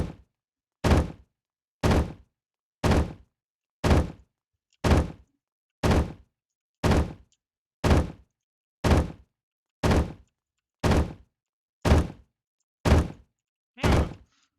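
Locked door in a video game thudding over and over as someone tries to open it, with about fourteen evenly spaced, loud, sharp knocks arriving roughly once a second against silence.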